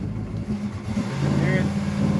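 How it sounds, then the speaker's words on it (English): An old carburetted car pulling away from a stop with a hesitating, uneven engine note that swells and strengthens toward the end, close and continuous, with a voice speaking over it. "See if y'all can hear the hesitation when I take off."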